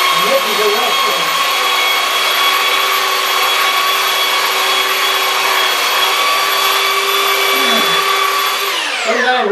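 Small 6 by 14 belt sander running steadily on a carved sign, a loud continuous whine with a rough abrasive hiss that holds nearly unchanged before spinning down at the end.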